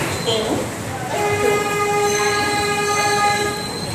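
Passenger train running on a long journey toward Tiruchendur, loud rumbling wheels on rails with a sustained multi-tone horn blast rising in the middle, close and continuous for several seconds.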